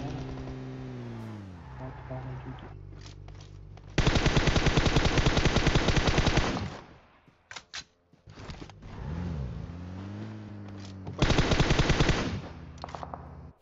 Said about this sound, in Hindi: गोलियां चल रही है वहां पे